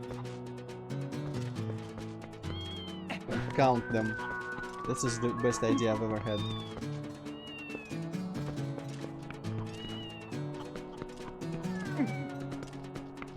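Several cats meow in a Twilight Princess game scene, short rising cries popping up one after another over game music, with a person talking throughout.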